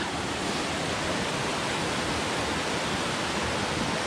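A small waterfall pours into a pool beside a rocky brook on a New Hampshire hiking trail, a dense, steady rushing roar that stays at an even level throughout, with no voices.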